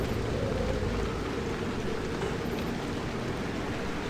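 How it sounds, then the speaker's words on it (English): Rain falls in the video game Pacific Drive as a steady, dense hiss of broadband noise, loud and unbroken for a few seconds with no voices. "Oh, rain, thank you."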